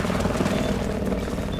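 A video game attack helicopter's rotor in Battlefield 4 roars loudly and continuously with a dense, chopping whir, close and unbroken, and no voices.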